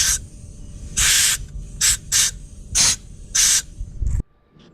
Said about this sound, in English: take compressed air and blow all around the spark plug hole